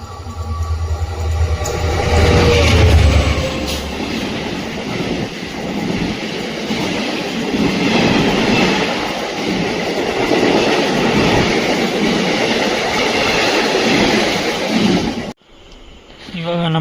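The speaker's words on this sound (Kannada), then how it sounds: "ನೋಡಿ ಎದುರುಗಡೆಯಿಂದ ಟ್ರೈನ್ ಬರ್ತಿದೆಯಲ್ಲ" The Yesvantpur-Sindhanur Express rushes past on the opposite track close at hand, a loud continuous roar with rhythmic clickety-clack of wheels over rail joints, ending abruptly as the last coach clears.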